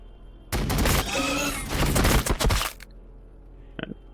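Units open fire in the strategy game Warhammer 40K: Battlesector, with a loud burst of rapid, crackling gunfire lasting about two seconds, then quiet apart from a faint short rattle.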